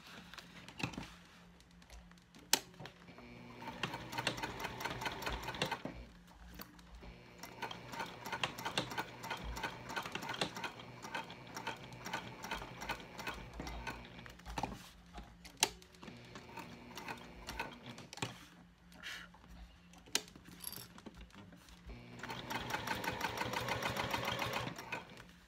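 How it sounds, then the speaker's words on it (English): A sewing machine stitches the card slot pockets of a bifold wallet with backstitching, running in steady mechanical bursts separated by short pauses, close and fairly loud, with no speech. "I backstitch over every card slot pocket"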